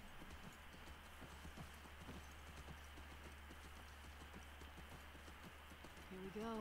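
Steady clip-clop of horse hooves at a walking pace in The Last of Us Part II, close and rhythmic, over a low ambient hum, with a brief tonal sound near the end.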